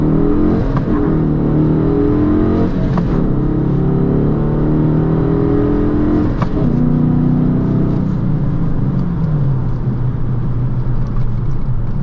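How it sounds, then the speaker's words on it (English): A Dodge Challenger Shaker with a manual gearbox launches at full throttle, its loud engine roaring and rising through revs, with brief pitch shifts between gears and a sustained throaty rumble close by. "To launch, press clutch and quickly apply full throttle."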